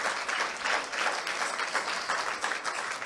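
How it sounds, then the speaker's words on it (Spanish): A church congregation at a Spanish-language worship service applauds steadily, a dense, even wash of clapping that continues for about three seconds without a break. "Denle un fuerte aplauso a Jesucristo"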